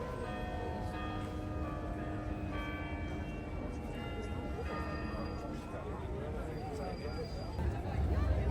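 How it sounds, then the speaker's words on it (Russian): The 35 bells of the Jerusalem carillon ring out over a cheerful Christmas crowd, sustained bell tones layered under a constant hum of people talking. "уже несколько десятков лет приводит в движение 35 колоколов Иерусалимского карельона"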